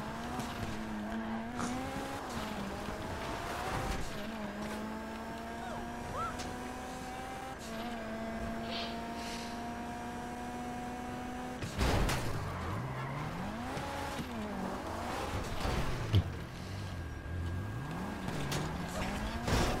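A car engine drones and shifts pitch while driving in GTA V Online, with sustained revving tones, skidding swoops near the end and a voice talking over it.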